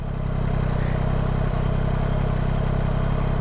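Yamaha MT-09 SP motorcycle idling, a steady low engine drone with a metallic clutch rattle running underneath, close and loud throughout, with no talking.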